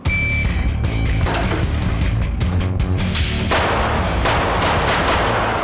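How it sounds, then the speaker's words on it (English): Rapid, sustained gunfire from a backup gun competition, with dense overlapping shots filling the whole stretch and growing busier toward the end, loud and close with no speech. "get your carry gun out and shoot it in competition"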